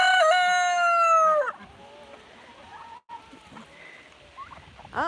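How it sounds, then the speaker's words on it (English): A rooster on a farm in rural South Dakota gives one loud, close crow. Quieter clucks and murmurs from other fowl follow against an open outdoor background. "He's my king rooster."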